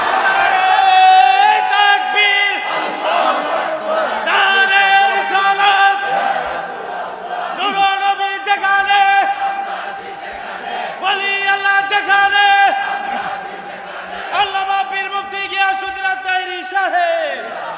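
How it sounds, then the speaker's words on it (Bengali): A large outdoor crowd chants slogans in loud, rhythmic bursts at a religious sermon gathering, voices rising together in repeated call-and-response waves with short pauses between. "কারা কারা খুশি এবার হাত দিলে স্লোগান লাগান ইনশাআল্লাহ"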